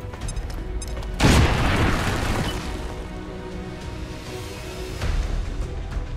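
A grenade detonating in XCOM 2, a single loud boom with a crashing burst of debris that fades over a couple of seconds, followed by a quieter thud near the end.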